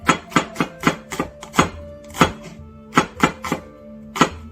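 A knife chops onions on a cutting board in about a dozen crisp, close thuds, irregularly spaced with brief pauses between small runs of cuts.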